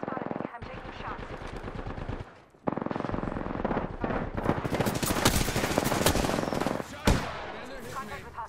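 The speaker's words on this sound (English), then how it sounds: "They spotted me. I'm taking shots." Rapid automatic gunfire bursts in the video game Apex Legends, dense and loud with short gaps between volleys, mixed with game sound effects and a player talking over the action.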